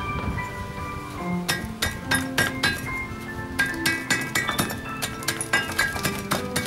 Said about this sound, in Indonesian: Ini tumbuk sampai cukup halus.